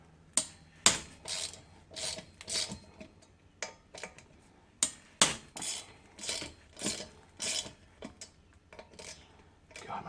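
Bolts holding the front brake disc on a Suzuki GSXR750 are broken loose one at a time with an Allen key, producing sharp metallic clicks and ratchety ticks in irregular bursts at close range, fairly quiet.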